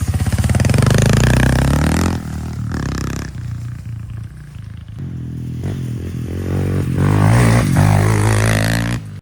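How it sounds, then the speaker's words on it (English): Dirt bike heading into the woods, its engine loud and close with a strong rumbling drone that dips and then rises again as it revs and moves along the trail. "I'm gonna hop on the dirt bike because I know I can get everywhere on this thing"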